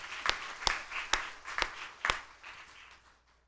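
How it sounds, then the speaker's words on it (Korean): A church congregation at a Korean service gives a few sharp, spaced claps, about five distinct hand claps at a steady rhythm, fading to quiet at the end. "박수로 한번 하겠습니다"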